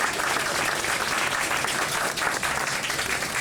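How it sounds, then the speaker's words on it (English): A crowd applauds for a speaker's wife, producing a short burst of sustained, dense clapping that stays at an even, fairly loud level throughout. "Please give her a round of applause."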